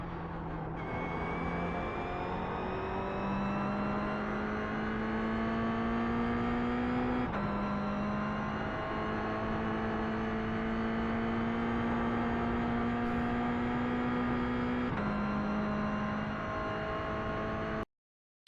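Toyota GR86 at full throttle on the Summit Point track, a loud, steady engine drone climbing in pitch through the gears. Three brief dips mark the upshifts, with no one speaking over the sustained acceleration.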